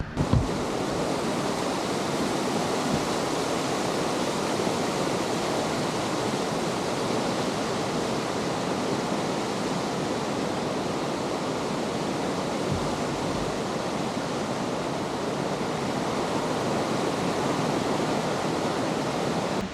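A constant, heavy roar of a big waterfall in Croatia fills the whole stretch, broadband and unbroken, with no voices over it.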